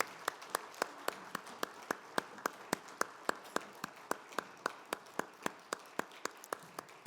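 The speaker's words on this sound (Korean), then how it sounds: "우리 하나님께 영광의 박수 올려드립니다." A church congregation at a Holy Week early-morning prayer service claps in steady unison, sharp evenly spaced claps about four per second that continue for several seconds and sound moderately distant in a reverberant room.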